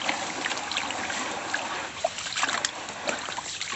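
Water splashes and trickles as sand is washed in several changes of water, a steady wet sloshing with a few sharper splashes, close and fairly loud.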